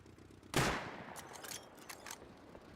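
A single sharp gunshot in the game Rust bursts out loudly, then fades into faint scattered sounds.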